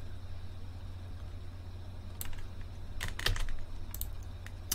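Keys clatter on a computer keyboard as an API key is entered, in a few quick bursts of taps over a quiet fan hum, with no speech.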